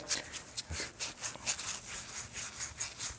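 A Scotch-Brite abrasive pad scrubs rusty automotive brake pad surfaces by hand, making quick rhythmic back-and-forth rasping strokes, roughly four per second, close and moderately loud with no talking.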